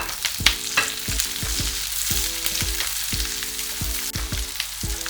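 Onion and capsicum sautéing in a pan over a high flame for chicken pasta, a loud continuous close sizzle with stirring scrapes, over a repeating tonal melody in the background.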